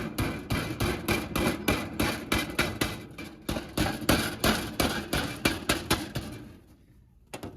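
Sheet metal being hammered by hand in old-style tin bashing: a steady run of sharp, ringing blows, roughly four a second, loud and close, continuing for several seconds before stopping, with one last tap.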